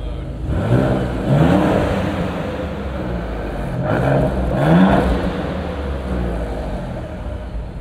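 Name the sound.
Maserati Gran Turismo engine revving in Corsa mode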